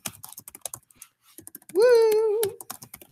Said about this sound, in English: Struggling with the typing today, man.